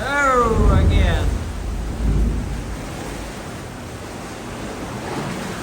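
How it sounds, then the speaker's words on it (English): Incoming tide waves surge into the Ovens natural sea caves near Lunenburg, Nova Scotia, producing a deep booming rumble with two strong surges, then a fading hollow wash; a voice briefly exclaims at the start. "It's forcing the water back into the back of the cave."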